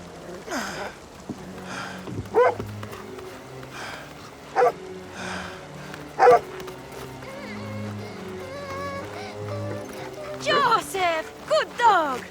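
A cartoon dog barks several times in short sharp bursts over background music, mixed with animated voices calling out, with a cluster of yips near the end.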